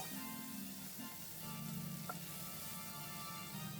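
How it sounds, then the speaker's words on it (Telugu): Tamarind fries in hot oil in a pan with a steady, close sizzle and faint bubbling crackle, alongside a low hum and a single soft clink. "2 రెమ్మల చింతపండు వేసి వేయించుకోవాలి."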